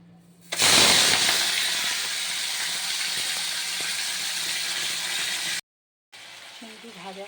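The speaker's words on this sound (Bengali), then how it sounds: "তো চিংড়িটা আমি ভেজে নেব।" Prawns rubbed with salt and turmeric hit hot mustard oil, giving a loud, dense sizzle that bursts in suddenly and holds steady for several seconds before cutting out, followed by quieter frying with faint clinks.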